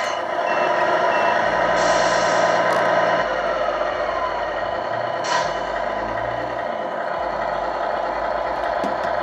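A Tamiya Grand Hauler 1/14 scale RC truck reverses, its steady loud reversing beeps sounding over the whir of the motor, with a short air-brake hiss.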